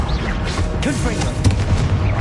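Heavy booming impacts from a Confringo blasting curse in Hogwarts Legacy pound through a thick wall of battle noise, with a voice briefly audible underneath.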